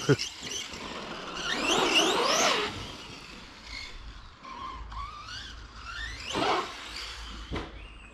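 A Pro-Line Pro MT radio-controlled truck on a 4S battery accelerates around a track with rising and falling electric motor whines and tire squeals, mixed with background noise and a voice talking.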